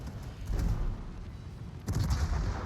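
Naval gun salvos boom out in World of Warships, two heavy low rumbling blasts, one near the start and another toward the end, over a continuous roar of sea and battle.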